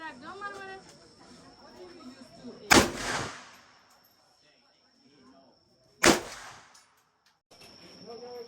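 Two sharp, loud gunshots ring out a few seconds apart, each followed by a brief echoing decay, with voices talking before and after, at a shooting range in Vietnam.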